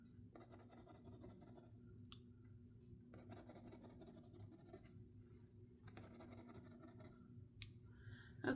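Quiet, close scratchy scribbling of woodless pencils on paper comes in several bursts separated by brief pauses.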